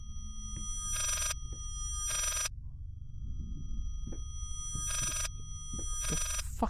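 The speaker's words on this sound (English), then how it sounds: "Is that a phone?" Telephone bell in the horror game Layers of Fear rings in four bursts spaced about a second apart over a low rumbling background, with no talking.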